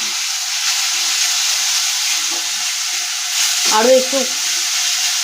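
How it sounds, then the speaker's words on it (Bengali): Spice paste for paneer dalna sizzles and hisses steadily as it is sautéed in hot oil, a continuous close frying crackle with a brief voice speaking near the end. "আমরা কষিয়ে নিচ্ছি"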